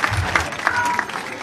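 A crowd claps at a football tournament final in Ziguinchor, Senegal, brief scattered applause rising and falling over a second and a half, heard close and fairly loud.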